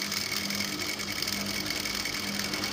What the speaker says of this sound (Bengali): আমি সেলাইটা দিয়ে দিচ্ছি।